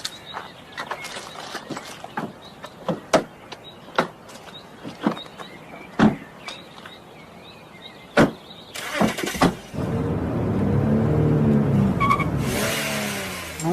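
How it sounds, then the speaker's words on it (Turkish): A car is driven roughly, with scattered clunks, thumps and bumps over a rumbling engine, then a sustained engine roar swells toward the end, close and fairly loud. "Ulan Cengo araba sürmeyi bile unutmuşsun amına koyayım."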